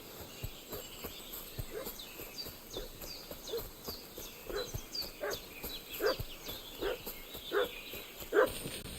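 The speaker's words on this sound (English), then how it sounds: "What's that dog making such a fuss about?" In the video game Kingdom Come: Deliverance 2, a dog barks repeatedly at a distance. The barks come in an irregular series that grows slightly louder over roughly nine seconds, with quiet ambience underneath.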